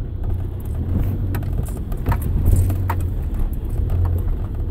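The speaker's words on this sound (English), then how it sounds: "right here, it's really muddy, you can feel the car slide" A 4x4 car drives through a muddy off-road green lane near Stafford, giving a close, low engine drone scattered with sharp clicks, knocks and rattles as it slides.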